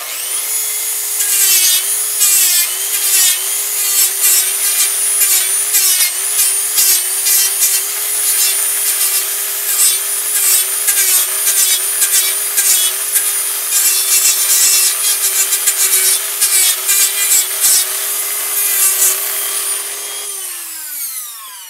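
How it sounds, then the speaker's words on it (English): Rotary tool with cutting and sanding discs shaping a wooden ventriloquist dummy, a high whining motor held steady while the disc chatters and rasps against the wood in rapid uneven bursts, close and loud, winding down at the end. "I'll be switching back and forth between the cutting discs and the sanding discs"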